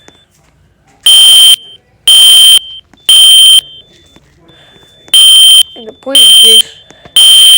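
A smoke alarm under test in a care facility room sounds loud, piercing high beeps in a repeating pattern of long tones with short gaps, while someone talks quietly between them.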